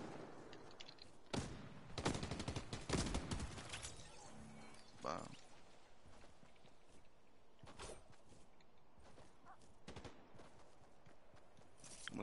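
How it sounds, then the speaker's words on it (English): Gunfire in a video game, a battle-royale style match with building and fights, heard as scattered bursts of shots, some loud and close, others fainter, with a busy game soundscape and no clear talk. "There's someone shooting at me."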